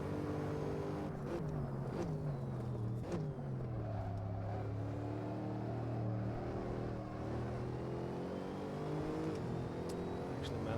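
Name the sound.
GT3 race car engine in Assetto Corsa video game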